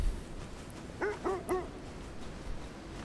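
Dogs in the video game Kona 2: Brume give three quick barks in a row, moderately loud and close, over a low background hiss with no talking.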